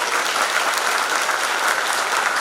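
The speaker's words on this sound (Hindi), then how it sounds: "आप लोग ताली तो बजा दो।" Sustained, dense applause from an audience at a spiritual gathering in Faridabad, steady and fairly loud throughout with no voices breaking through.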